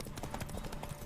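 Horse galloping in The Witcher video game, a quick, steady clip-clop of hooves close by for about a second.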